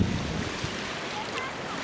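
Ocean surf washes steadily at a beach in Japan on a day with a strong current, a broad, loud rush mixed with heavy wind buffeting the microphone.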